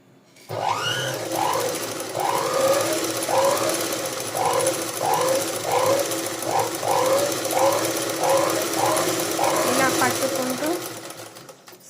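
A sewing machine stitches a pico edge along a saree in a steady run of repeated bursts, loud and close, with someone talking over it throughout.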